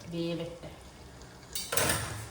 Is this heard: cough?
no